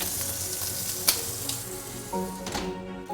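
Beef fore rib searing in a hot pan, a steady close sizzle and crackle with a few sharper pops and clinks near the end, no talking.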